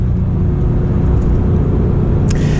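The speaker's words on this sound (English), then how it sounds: "we're following a GT3 RS, which is a good thing. See how loud that car is?" A Porsche GT3 RS driving ahead on a road, its engine a steady, loud low rumble with constant road and cabin noise from the following car, no voices.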